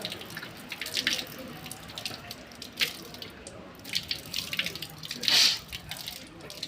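Running water splashes from a tap in uneven bursts during ritual ablution, with several louder gushes as hands scoop and rinse the nose, close by.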